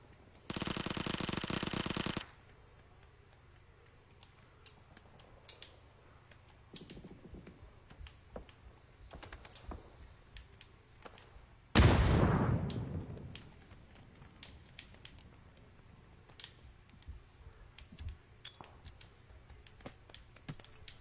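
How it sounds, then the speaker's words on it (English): Gunfire and grenade blasts in an online squad-based shooter video game on mountainous terrain: a dense two-second burst of fire opens, scattered shots and clicks follow, then a loud explosion hits near the midpoint before rattling shots continue. "You're throwing grenades all over the place."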